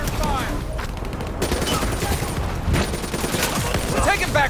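Rapid gunfire from Call of Duty: Black Ops III on PS5 Pro, a dense, continuous barrage of shots and bursts with shouting voices mixed in throughout.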